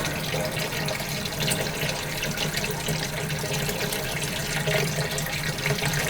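Ethanol is poured over a solid in a filter in a chemistry lab, giving a steady, close trickle of liquid splashing for about six seconds with no talk.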